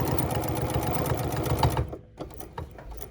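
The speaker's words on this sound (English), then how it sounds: "We're going to stop, pivot, and stitch." A sewing machine stitches a fabric trick-or-treat bag in a rapid steady whirring run close by, then stops abruptly, followed by a few short bursts of stitching and handling noises.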